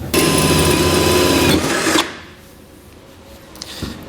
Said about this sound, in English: we're going to be using a 3/4 inch hole saw